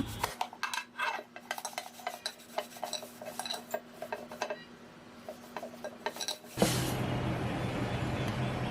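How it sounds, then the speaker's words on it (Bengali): Light scrubbing of a kitchen item with a soft mesh pad and a soap-type cleaner, giving a run of close, irregular clinks and rubbing scrapes, then a steady louder hiss of friction near the end. "তো আমি হালকাভাবে এখন জাল দিয়ে একটু লাগিয়ে নিচ্ছি"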